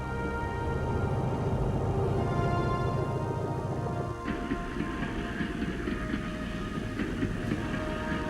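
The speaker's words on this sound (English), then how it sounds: "trains loaded with troops, tanks, and field guns could move with no risk from attack." A North Vietnamese military train carrying troops, tanks and field guns rumbles steadily close by, a heavy continuous roar with metallic clatter that shifts in character midway through.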